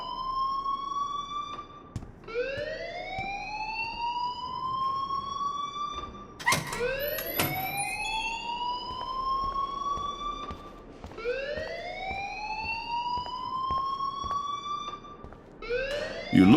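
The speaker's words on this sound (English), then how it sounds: "please turn off that alarm since that's your job" An alarm wails in Life Is Strange, a looping electronic siren that sweeps upward in repeated rising whoops, steady and prominent, broken by a few sharp knocks and clatters.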